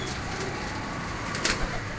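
Flying pigeons kept in a loft in Faisalabad coo softly against a dense, steady background hiss, with a couple of brief brighter bursts near the end.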